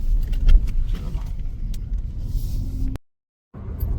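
Car setting off for Kapurthala with the driver's father at the wheel, a steady low engine and road rumble inside the cabin, broken by a brief half-second dropout before the drone resumes.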